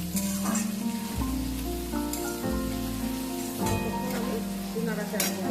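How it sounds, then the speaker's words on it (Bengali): Sliced onion frying in oil in a pan for a coriander chicken curry, a continuous crackling sizzle with scraping clatters from stirring, and music or a hum running underneath. "পেঁয়াজটাকে একটু লাল লাল করে ভাজবো।"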